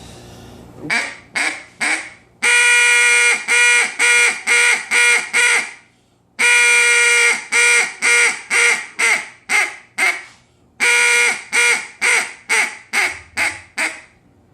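A loud, clean Timber Boss duck call hail call blown with the hand open: long runs of rhythmic, descending quacks in several bursts separated by short pauses, played close.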